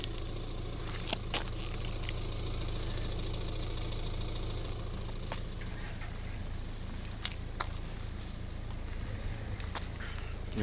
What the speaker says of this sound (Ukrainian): автомобіль заведений